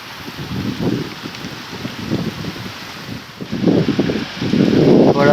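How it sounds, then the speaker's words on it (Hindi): Strong wind gusts buffet the microphone during a rain storm in Islamabad, rising and falling in rough surges beside a lake and growing louder toward the end, with no talk. "इतनी तेज़ हवा।"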